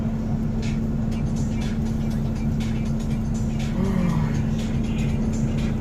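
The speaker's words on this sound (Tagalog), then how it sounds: "Ito yung sasakyan namin bus papuntang Ho Chi Minh," A bus bound for Ho Chi Minh City, Vietnam, runs with a steady low engine drone and road rumble throughout, heard from inside with faint background chatter.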